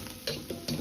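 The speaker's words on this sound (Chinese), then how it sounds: "炒至辣椒段儿变色" Chili pieces stir-fried in a wok, with a soft continuous sizzle broken by three quick scraping stirs in under a second.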